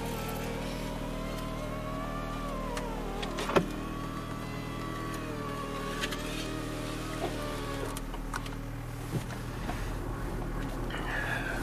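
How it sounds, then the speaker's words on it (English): A car's electric power windows whir closed on a cold day, a faint motor whine heard over steady engine idle, with a soft click and light rustles inside the cabin. "I'm gonna close the windows because it's freezing."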